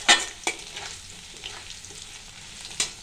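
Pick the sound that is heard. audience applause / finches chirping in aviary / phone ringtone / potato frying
potato frying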